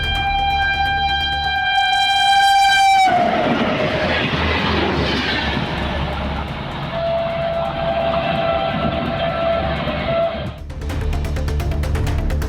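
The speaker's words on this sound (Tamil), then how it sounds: "ரயில் எஞ்சினுடன் 2 பெட்டிகள் இணைக்கப்பட்டு இருப்பு பாதை அதிர்வுகள் நகர்வுகள் என சோதனை மேற்கொள்ளப்பட்டது." A train engine pulling two coaches passes on a trial run of the Madurai–Bodi line, opening with a loud horn blast before a sustained steady rumble and rail noise that cuts off abruptly near the end.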